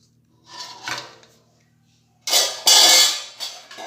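Roasted flour is stirred into sugar syrup in a kadai for Gujarati mohanthal, giving a few close scraping, rubbing strokes: two soft ones first, then a louder burst after a pause.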